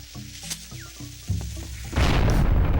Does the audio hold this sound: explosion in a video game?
yes